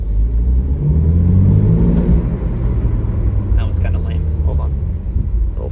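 A BMW M3 twin-turbo inline-six engine revs and rumbles with a deep, loud drone, rising in pitch early on, while a voice talks over it.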